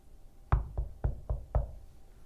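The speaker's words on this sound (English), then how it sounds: "Duck knocked on the door early the next morning." Knuckles rap on a door five times in an even, unhurried rhythm. Each knock is solid and close, with a short resonant decay, and nothing else is heard.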